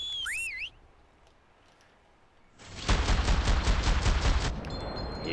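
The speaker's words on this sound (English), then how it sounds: "we got shooting at 2" In the video game Cuisine Royale, rapid automatic gunfire breaks out after a quiet stretch, about two seconds of fast repeated shots at close range following a brief synthetic whistle-like tone at the start.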